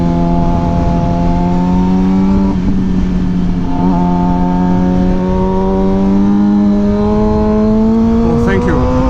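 A Suzuki GSX-R 600 motorcycle engine runs loud and close, its pitch climbing steadily as it revs, with brief pops and crackles cutting through; traffic noise sits underneath.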